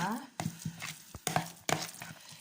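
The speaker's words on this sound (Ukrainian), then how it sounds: "І вимішуємо ложкою зараз" A spoon stirring minced meat with ground onion and two eggs in a bowl, giving a few soft wet squelching scrapes at irregular intervals, close and fairly quiet.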